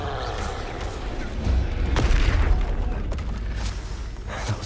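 A Confringo fire spell blast in the Hogwarts Legacy video game: loud, dense bursts of booming impacts and crackling over a rumbling low-end, peaking mid-clip in a continuous barrage of spell combat.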